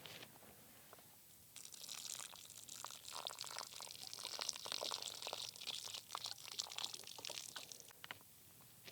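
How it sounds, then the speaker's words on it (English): Liquid deer mineral poured slowly from a container onto bare earth at a mineral site, giving a steady close splashing and trickling that runs for several seconds after a quiet start. "we're just going to pour that real slowly right onto the bare earth"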